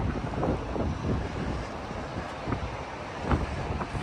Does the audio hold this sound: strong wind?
yes